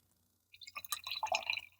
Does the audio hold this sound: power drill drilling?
no